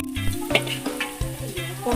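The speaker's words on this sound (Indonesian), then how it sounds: "Sekarang kita goreng bawang ya Bunda." Shallots sizzle as they fry in oil for a Padang-style balado dish, a soft crackling hiss that sits under steady background music with a few clinks along the way.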